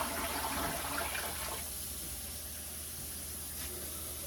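Tap water running steadily into a coffee pot at home, a soft continuous hiss and splash that shifts in tone partway through as the pot fills, with no talking.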